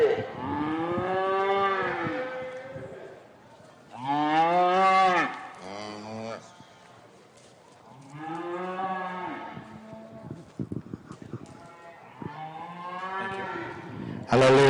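Speckle Park cattle in a show ring at a livestock exhibition, loud repeated drawn-out moos from close by, several calls in succession with short pauses and faint clatter between them.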